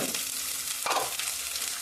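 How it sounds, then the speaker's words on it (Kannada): A spoon stirs ginger garlic paste through spices frying in oil for egg biryani, a continuous close sizzle with scraping stir strokes and a brief clatter midway. "ಹಾಕಿಬಿಟ್ಟು ಸ್ಪೂನಿಂದ ಕೈ ಆಡಿಸ್ಬಿಟ್ಟು ಶುಂಠಿ ಬೆಳ್ಳುಳ್ಳಿ ಪೇಸ್ಟ್ ಹಾಕ್ಕೊತಾ ಇದ್ದೀನಿ"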